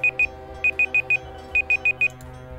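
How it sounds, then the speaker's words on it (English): Sharp electronic beeps from the game OpenTTD sound over a soft musical background: two quick tones, then a group of four, then another four, evenly spaced and loud. "That was completely unnecessary, that beep, by the way."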